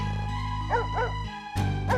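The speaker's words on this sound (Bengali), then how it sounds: "কুকুরটা আবার ঘেউ ঘেউ করছে কেন" A cartoon dog gives three short, yelping barks at night, two close together and one after a pause, over a constant low hum.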